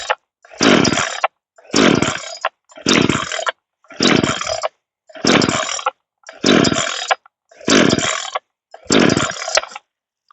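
A Sportsman chainsaw with a 20-inch bar, fresh out of the box, revs in eight loud, close bursts of roughly a second each, separated by short silent gaps.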